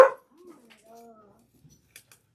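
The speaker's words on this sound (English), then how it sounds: "I apologize about the dogs, y'all." Indoor dogs let out a sharp bark up close, followed by brief high whines and yips that fade into quiet, with faint small clicks near the end.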